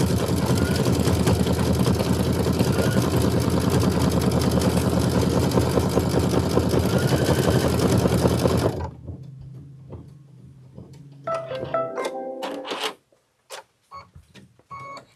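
A Kimberbell quilt embroidery machine stitches a flower center fill in cobalt thread, a loud rapid steady whirring and tapping that stops partway, followed by quieter clicks and handling sounds.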